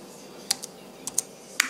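Scattered key presses on an iMac keyboard, about six light, quick clicks at an uneven pace, close and fairly quiet with no talking.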